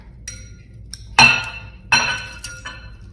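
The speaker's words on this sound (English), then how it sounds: "And then we're gonna throw in all of our veggies." Chopped raw vegetables tossed into a glass bowl of lemon-flavored gelatin, giving two sharp, bright glassy clinks about a second apart with lighter taps between, close and clear with no talking.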